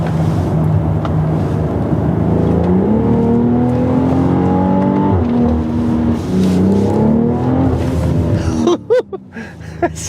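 A 2021 BMW X3 M40i with sport exhaust accelerates hard on a winding road, its engine note rising steadily in pitch through a gear then dropping as it shifts, loud and close from the cabin, with a brief clatter near the end.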